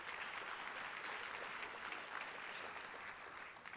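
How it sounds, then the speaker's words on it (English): A youth recognition awards audience gives a round of applause, dense continuous clapping from many people, fairly distant and soft but steady for the whole few seconds. "So let's give them a round of applause."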